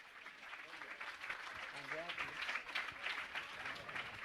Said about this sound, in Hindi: दोनों हाथ तो ताली बजाएं